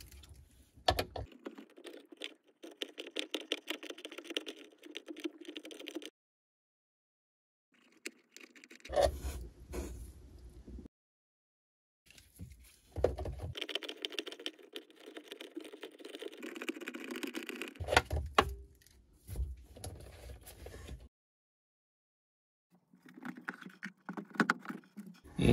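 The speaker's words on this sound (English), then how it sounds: "loosen up those 10 millimeter bolts and remove them so we can pull that ignition coil out of that box" Small 10 mm bolts on a Sea-Doo GTX ignition coil box are loosened and removed by hand, giving close, intermittent bursts of light metallic clicking and ratcheting separated by short silent pauses.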